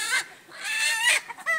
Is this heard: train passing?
no